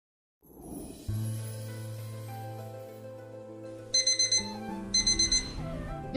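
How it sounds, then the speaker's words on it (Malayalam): An alarm clock rings, starting with a steady electronic tone and then breaking into two quick groups of sharp, bright beeps, fairly faint and with no one talking. "ഈ അലാറം ഉറങ്ങാൻ സമയത്ത്"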